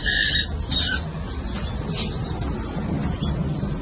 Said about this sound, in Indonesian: Ini kenari.